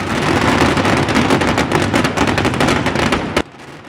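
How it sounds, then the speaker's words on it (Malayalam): Sample fireworks display before Thrissur Pooram by the Thiruvambady group, with shells, firecrackers and a final massed burst, heard as a dense, loud, continuous crackling barrage that ends abruptly. "അരമണിക്കൂറിന് ശേഷം തിരുവമ്പാടി വിഭാഗവും വെടിക്കെട്ടിന് തിരികൊളുത്തി"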